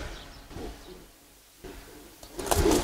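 Giribaz pigeons of the Palla line, silver pairs kept in a loft, coo softly in low, rounded murmurs that swell near the end, with quiet gaps in between and no talk over them.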